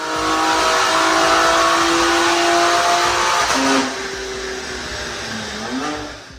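A BMW M3 Competition with modified intake revs hard on a dyno, a loud sustained engine drone with rising and falling pitch that drops back to a lower idle-like hum before a brief final rev.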